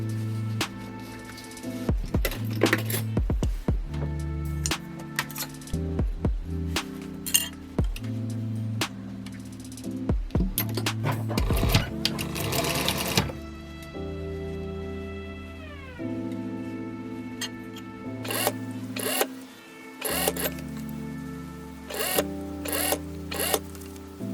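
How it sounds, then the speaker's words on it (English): A sewing machine stitches bias binding onto the seam allowance of a wide-brim sun visor. It runs in short bursts of rapid mechanical clatter separated by pauses and clicks, close and alone. "Stitch the bias binding to the seam allowance,"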